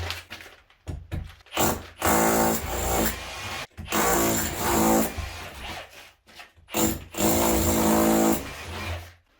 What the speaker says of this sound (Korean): 콘크리트 비트를 좀 껴준 다음에 원하는 데를 하나씩 한 10cm 간격으로 구멍을 내주세요